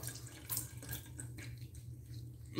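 A cold water tap runs for a rinse during a wet shave, a soft continuous splash and trickle at a sink, fairly quiet and fading toward the end.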